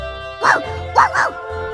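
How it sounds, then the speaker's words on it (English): Three-headed hound Cerberus howling in the game Trillion: God of Destruction, three short yelping calls over a steady music bed, with no talk. "That howl. Cerberus? Is that you, Cerberus?"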